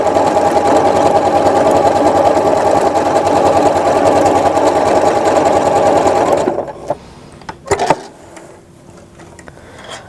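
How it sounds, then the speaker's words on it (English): A sewing machine running a built-in decorative line stitch on fabric, a loud, close, steady rapid whirring chatter for about six seconds, then stopping, followed by a few clicks and knocks of the machine in near quiet. "just play with your built-in stitches, do some line stitching"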